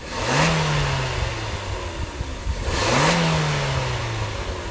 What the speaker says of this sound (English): Let's listen to the Jimney.